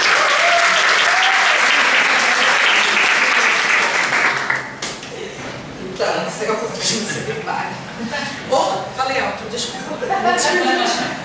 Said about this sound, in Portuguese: Receba o salve de palmas, Ana Reis